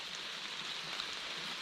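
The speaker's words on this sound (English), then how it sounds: "pouring down rain" Heavy pouring rain on an outing to catch bait fish, a dense, steady hiss of falling drops with no pauses and no voices.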